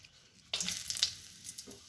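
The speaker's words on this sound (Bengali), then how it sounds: "তেল গরম হয়ে এসছে, এবার ফোড়নের জন্য আমরা দিয়ে দিচ্ছি 4 থেকে 5টা মতো এলাচ, 2 টুকরো দারচিনি এবং একটা তেজপাতা।" Cardamom pods, cinnamon pieces and a bay leaf dropped into hot oil, a sudden sharp sizzle bursting in after a quiet start, then crackling and settling, close up.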